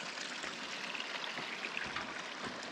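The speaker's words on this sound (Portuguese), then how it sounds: "Tá correndo leite de água aqui ainda." Rainwater runs over the ground on a ranch after heavy rain, a steady, close trickling and streaming rush that continues without pause and without voices.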